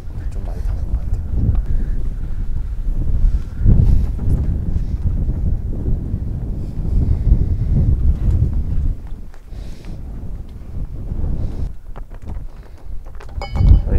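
Strong gusting wind of about 17 metres per second buffets the microphone on a high hilltop golf course in Gyeongju, a loud continuous low rumble rising and falling in surges, with brief faint voices underneath.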